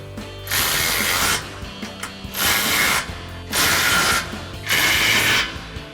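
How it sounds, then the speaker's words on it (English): A ratchet with a 13 mm socket tightens running board hardware on a 2024-2025 Tacoma in four loud, close bursts of rapid clicking, each about a second long and separated by short pauses. "we'll grab our 13 millimeter socket on a ratchet and tighten down all of our hardware"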